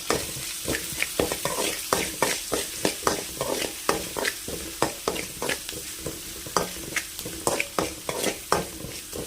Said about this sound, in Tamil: வெங்காயத்தை நல்லா பொன்னிறமாக வதக்கி எடுத்துக்கலாம்